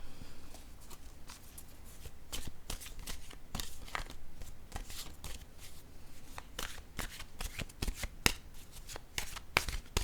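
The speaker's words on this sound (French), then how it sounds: "Je vais piger une carte, un message de l'univers." A deck of cards is shuffled and a single card drawn, giving close, crisp riffling and flicking bursts in an irregular rhythm over about ten seconds, with no voices.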